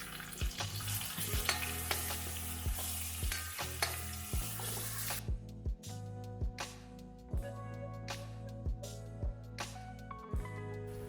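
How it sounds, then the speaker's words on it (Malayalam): Crushed dried red chilli and curry leaves frying in oil in a pan for a chicken roast curry, a steady sizzle with regular scraping stirs of a spoon against the pan, close and without talk. "ഒരു ഒന്നര ടീസ്പൂൺ മുളക് വറ്റൽമുളക് ചതച്ചെടുത്ത് നമുക്ക് ചേർത്ത് കൊടുക്കാം ഇനി ഇതൊന്ന് മൂപ്പിച്ചെടുക്കാം"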